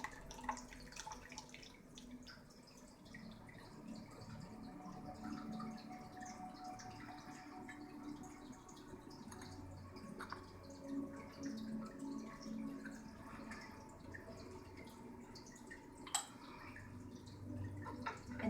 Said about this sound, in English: you pour hot water over the tea